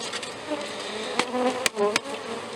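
Honeybees fly around an opened hive on a warm day, a close, continuous buzzing hum with individual bees zipping past the ear and a few sharp knocks.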